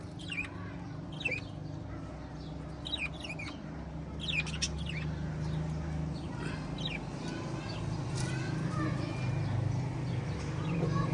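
Small parrots chirp and squawk in short bursts against a steady low background rumble, fairly close by.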